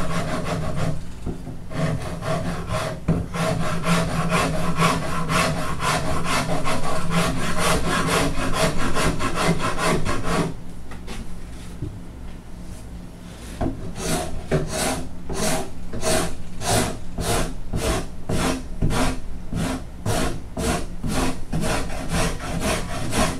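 A wood rasp works a guitar neck in steady back-and-forth strokes, coarse and scraping, with a brief softer pause before the rhythmic passes resume at an even pace, close and loud with no talking.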